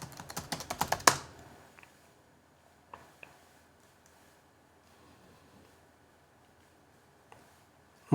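A burst of rapid typing on a computer keyboard as a terminal command is entered, a quick run of clicking keystrokes ending in a harder key press, followed by near silence with a few isolated faint clicks.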